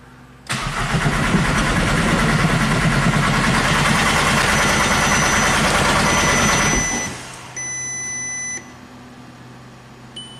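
VW Jetta TDI diesel, just given an engine swap, cranking loud and close with a steady rhythmic starter drone for several seconds, then a quieter hum with a sustained electronic beep chime.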